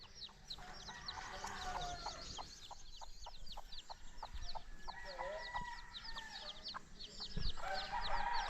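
Hens with chicks clucking in a backyard flock, steady soft clucks and peeps with a rooster crowing at moments, moderately close, no talking over them.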